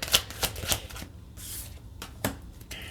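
A tarot card deck is shuffled by hand, giving several quick riffling bursts and soft card flutters, close and fairly quiet with no talking.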